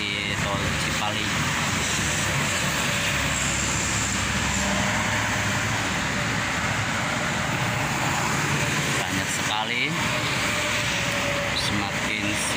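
Holiday traffic crawls on the Cipali toll road as private cars head east, a continuous loud roadside roar of engines and tires passing close by, steady for the whole stretch.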